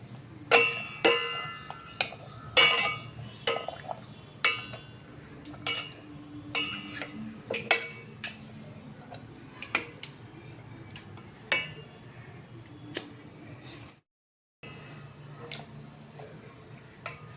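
Fried dahi puris dropped into sugar syrup in a home kitchen, a series of clinks and clatters of utensils against a pan with soft wet squishes, irregular and close, no speech.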